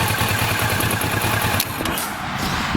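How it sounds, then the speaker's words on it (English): Kawasaki Ninja 650 twin-cylinder motorcycle engine from 2012 idling close by, a steady loud low throb with an even pulsing beat and no voices. "The twin cylinder has a unique, sounds different than a 4-cylinder"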